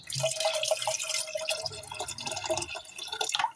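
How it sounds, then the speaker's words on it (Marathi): Water pours into a pot of dal khichdi with a close, trickling, splashy stream, its pitch shifting slightly as the level rises, with light clinks of the vessel. "अजून पाणी ऍड करणार आहोत त्याच्यात"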